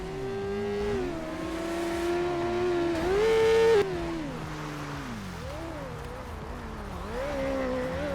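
A fast motorcycle engine in GTA, a video game, whines and revs continuously, its pitch rising and falling through gear changes with one louder, higher burst partway through and no talking.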